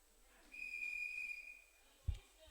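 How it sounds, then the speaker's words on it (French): A person whistles a single sustained, fairly faint note for about a second during a French church service, followed by a brief low thump. "On n'a dit pas de siffler."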